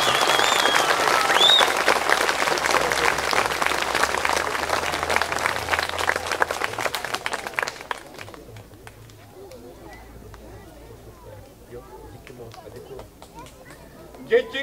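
An audience at a children's show applauds the assistants with dense, sustained clapping for about eight seconds, then it thins out to scattered claps and quiet murmuring.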